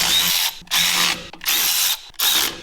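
A power drill whirs in four loud, close bursts with brief pauses between them, driving bolts out and in on a project car.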